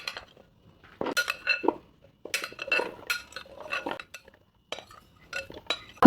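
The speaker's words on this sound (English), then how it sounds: "here I will put my chickpeas into this pan" Boiled chickpeas go into a multi-fryer pan with a series of close clinks and clatters of pan and utensil, in short irregular bursts separated by brief quiet gaps.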